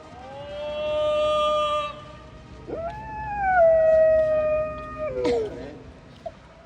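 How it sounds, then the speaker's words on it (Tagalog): A dog howls in long, wavering tones at a street vendor's call, several drawn-out cries rising and sliding in pitch, fairly close with a quiet background. "Ang asong si Harris lumalaban sa pag-alulong kapag may sumisigaw ng taho."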